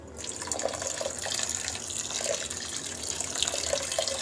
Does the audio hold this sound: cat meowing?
no